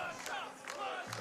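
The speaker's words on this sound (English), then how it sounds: "We're hearing a chant for push-ups." A live crowd at a Games Done Quick speedrunning marathon's PlayStation tournament chants a short rhythmic demand for push-ups in loud, pulsing shouts.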